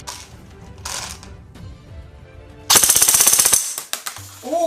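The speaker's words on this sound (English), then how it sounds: "let's put this on full auto and see what the rate of fire is like" An APS ASR 121 Gold Dragon airsoft rifle fires a fast full-auto burst of about two seconds, a loud, rapid, even rattle of shots at roughly sixteen rounds per second, with quieter handling noises before it and after it.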